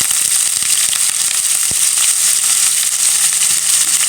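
Carrots and potatoes fry together in a hot pan on a home stove, giving a steady, loud, close sizzle with scattered crackles and no voices.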